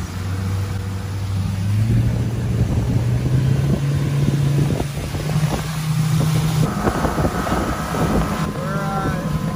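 A tritoon boat's outboard motor running on calm morning water, a loud steady drone whose pitch climbs gradually as it revs up, with heavy wind buffeting the microphone.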